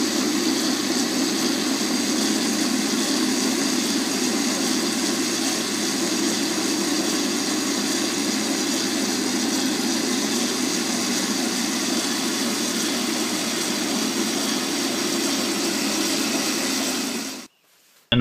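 An Atlas metal lathe runs steadily while machining work-hardening metal, giving a loud, continuous mechanical drone with a broad cutting hiss. It holds unchanged for about seventeen seconds, then cuts off abruptly, and no voices are heard.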